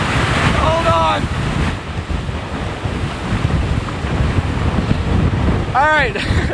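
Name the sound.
strong wind gust during Hurricane Ike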